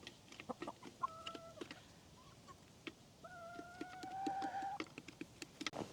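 Roosters with banged-up, bloodied combs after fighting cluck and call softly on an off-grid homestead, a few drawn-out tonal calls over faint outdoor background noise.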